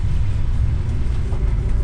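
A car drives through a snowstorm, its cabin filled with a steady, loud low rumble of engine and road noise, with no talking.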